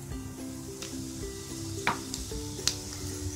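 Whole spices such as bay leaf, dried red chilli and cumin seeds sizzle steadily in hot oil, a close, continuous crackle with occasional sharper pops and a low hum under it.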